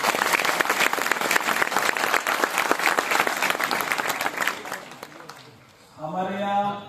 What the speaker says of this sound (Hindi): अगर आप ताली बजा करके जोरदार स्वागत करेंगे तो हम सबको आनंद आएगा।